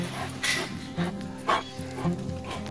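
A large Rhodesian Ridgeback and St. Bernard cross dog whimpers and yips in short, repeated bursts roughly every half second, fairly quiet, over a low steady background hum.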